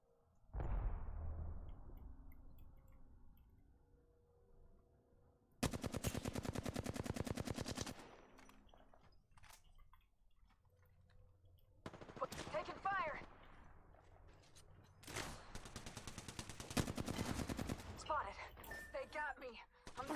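Bursts of automatic gunfire from the video game Apex Legends ring out loud and close in two sustained volleys, separated by quieter in-game movement, clinks and scattered game voice lines.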